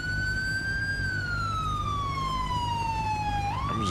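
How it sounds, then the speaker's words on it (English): A police car siren from the video game GTA 5 wails continuously, sweeping its pitch slowly downward before breaking abruptly near the end, loud and alone. "if you can just take off your siren, bro."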